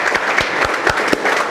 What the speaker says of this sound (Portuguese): Dê forte suas palmas para Jesus